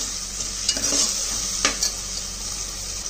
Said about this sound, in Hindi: అల్లం వెల్లుల్లి పేస్ట్ వేసుకుంటున్నానండి